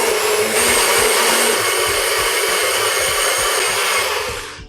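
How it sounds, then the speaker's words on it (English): A kitchen blender purees blanched greens with a loud, steady whirring drone and churning rattle that holds evenly before cutting off at the end, with no voices over it. "Now once blanching is done, I am going to puree it."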